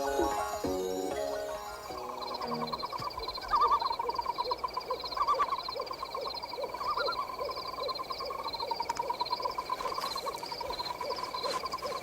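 A nightingale sings in a staged fairy-tale production, giving rapid repeated trilling phrases and clear whistled notes over soft music that fades in from a chordal opening.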